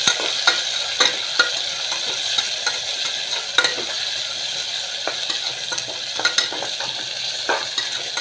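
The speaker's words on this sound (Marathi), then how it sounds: "हे दालचिनीचे तुकडे चव येण्यासाठी दालचिनीचे तुकडे टाकते." Cinnamon pieces dropped into hot oil in a pan while cooking khichdi, giving a steady close sizzle with occasional light stirring clicks and utensil taps throughout, no talking.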